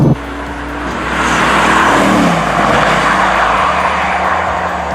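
A Mercedes-AMG GT S accelerates hard at full throttle from the driver's seat, the engine note climbing through the rev range after a brief shift, loud and continuous with rushing road noise and no talk.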